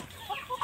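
Indio Gigante chickens kept in a simple backyard flock give a brief, close cluck with a couple of short rising notes.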